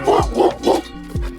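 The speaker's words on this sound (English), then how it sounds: "I know, such a good dog." A pit bull barking close by outdoors on a run, three quick loud woofs followed by a fourth after a short pause.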